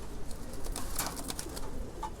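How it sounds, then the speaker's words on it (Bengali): Silver pigeons in a loft coo softly and flap their wings in short bursts, faint and close, with scattered rustling and scuffling. "কবুতরগুলো একটু লাফালাফি ঝাপটাঝাপটি করে"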